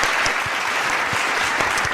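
Dense studio audience applause with whoops on a talk show, steady and loud for the full two seconds with no clear speech on top.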